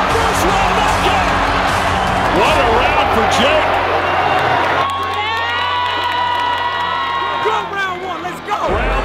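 A large arena crowd at a professional boxing match between Jake Paul and Nate Diaz roars and cheers loudly and continuously, with whoops and shouts rising over the din before the noise briefly dips near the end.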